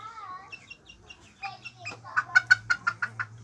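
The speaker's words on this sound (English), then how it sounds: "It's a booted bantam." A male booted bantam chicken clucks close by, soft warbling notes rising into a quick run of sharp, rhythmic clucks, with a low hum underneath.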